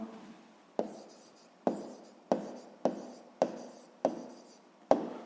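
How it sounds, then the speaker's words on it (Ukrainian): A pen scratches out an answer on paper while a sixth-grade maths exercise is worked, with about eight sharp, evenly spaced strokes, each fading into soft scribbling, close and quiet. "записуємо відповідь"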